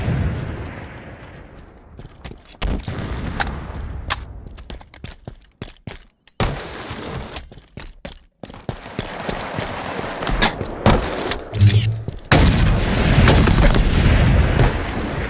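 Gunfire from a Halo Team Slayer match, likely sniper shots, fills the scene with sharp repeated cracks and booms that swell into a dense, loud stretch of shots and blasts near the end.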